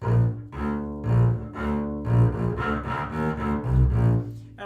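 Solo bass picks out a lilting folk tune with a slightly busier rhythm, notes plucked close and clean.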